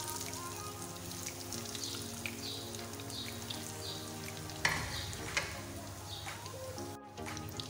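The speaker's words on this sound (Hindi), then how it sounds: "सब कटलेट्स को ब्रेड क्रम्स और एग लग चुका है, अब मैं इसको फ्राई करती हूँ।" Vegetable cutlets coated in egg and bread crumbs frying over a low flame in a pan, a steady close sizzle with scattered pops and a faint electric hum beneath, ending with a brief cut.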